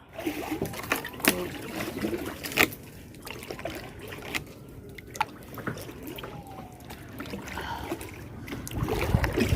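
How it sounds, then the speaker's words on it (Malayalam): Kayak paddled through water at an eco park, with soft splashes and drips from the paddle strokes and scattered louder knocks, set against steady outdoor ambience and faint voices. "കയാക്ക് തുഴഞ്ഞു പോകാൻ നല്ല എളുപ്പമാണ്"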